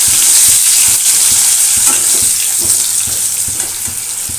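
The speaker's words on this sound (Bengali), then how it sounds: "এদিকে আলু ভাজা হচ্ছে" Potatoes fry in a pan with a steady, loud sizzle, mixed with intermittent stirring knocks and scrapes and a running water tap nearby, with no talk.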